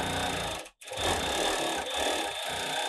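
A Reliable 3100IC direct-drive cylinder-bed coverstitch sewing machine runs steadily at close range, with a continuous fast whirring stitch broken by one brief stop near the start.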